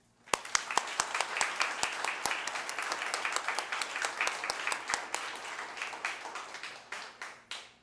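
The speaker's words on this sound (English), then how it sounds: "I want to give one more round of applause to everybody here and at home and at work." A crowd at a charity fundraising campaign kick-off event claps warmly and steadily, a dense close burst of applause with a few sharper individual claps, fading slightly at the end.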